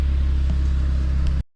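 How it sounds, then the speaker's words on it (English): Saab 9-5 Aero with around 200,000 miles idles steadily, a loud close low rumble holding an even tone before cutting off abruptly. "Alright, well the car's running good now."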